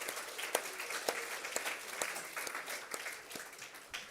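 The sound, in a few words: applause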